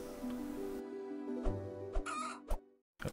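A chicken in the video game Planet Centauri gives several short clucks amid tonal game sounds and music, the brief bursts trailing off toward the end with no talk.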